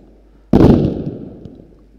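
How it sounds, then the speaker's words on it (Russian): A smoke grenade fires from an Abrams tank in the video game Squad: one sharp, loud pop-bang bursts suddenly from near-quiet, then decays into a fading hiss and rumble. "И выстреливают вот эти вот дымовые гранаты."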